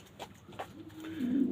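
Domestic pigeons cooing at a nest, a soft low coo rolling in twice before a longer, louder purring coo swells near the end, close by with no talking.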